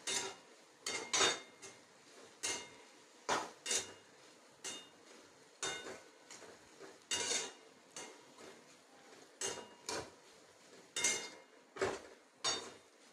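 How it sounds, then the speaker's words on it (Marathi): Soya chunks being sautéed in a pan, with a utensil repeatedly scraping and clinking against the metal in an irregular rhythm of sharp taps over a soft, steady sizzle, close and moderately loud. "या वड्या सोडूया आणि छान परतून घेऊया."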